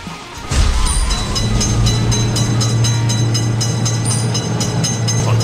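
Video game train rumbling loudly through a road railway crossing, with rhythmic clickety-clack of wheels over rail joints and a steady low drone sustained throughout after a sudden onset.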